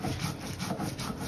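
Lentils are ground by hand with a stone roller on a flat grinding slab, giving a steady, rhythmic rubbing and scraping sound that repeats in even strokes at close range, with no talk.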